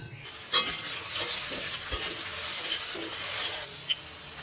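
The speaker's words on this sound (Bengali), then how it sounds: "আমি কড়াইতে সর্ষের তেল দিয়ে দেবো, দিয়ে একটু আলুটা ভেজে নেব।" Potatoes fry in mustard oil in a wok, a soft steady sizzle with occasional light scraping stirs and a couple of sharp utensil clicks, nearby and quiet, no speech.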